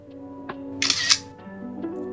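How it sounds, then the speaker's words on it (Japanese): A single loud, brief electronic shutter click from a ZTE Libero Flip folding smartphone camera, sounding once up close over a faint steady background hum. "リベロフリップのカメラの最大の弱点っていうのがシャッター音だなって僕は思っています。"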